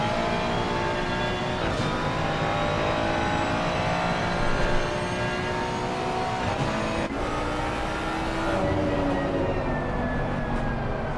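GT3 race cars lap Suzuka in a racing video game, engines howling and revving continuously with gear shifts and rising pitch, several cars blending into a loud, unbroken drone.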